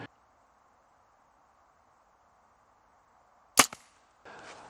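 A single sharp rifle shot fired at a fallow deer about 40 meters away in Portugal cracks out of a quiet hum, with a short echo and then soft rustling afterward.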